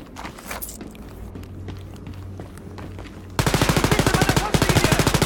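Video game gunfire in Wolfenstein Youngblood: scattered shots and footsteps give way to loud, sustained rapid automatic fire in fast regular bursts, close and dominant.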